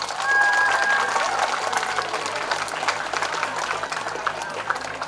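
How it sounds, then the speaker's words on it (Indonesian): Steady applause from an audience at a high school pageant, a dense wash of clapping that swells early and then holds. A host's amplified voice comes through faintly underneath. "Sekali lagi, beri tepuk tangan yang meriah."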